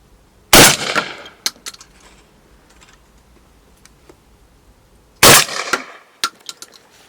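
Two loud shotgun blasts about five seconds apart, each fired through a full choke at a pattern-testing range, with sharp reports followed by brief echoes and clatter outdoors.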